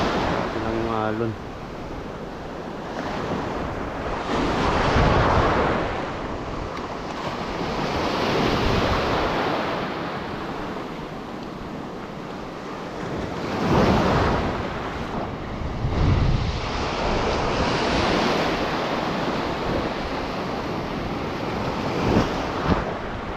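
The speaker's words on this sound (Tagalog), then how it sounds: "Alon." Ocean waves breaking along a beach with murky water, rolling surges rising and falling every few seconds under gusty wind buffeting the microphone; someone speaks briefly near the start.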